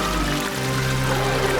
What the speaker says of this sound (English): Water is splashing all over!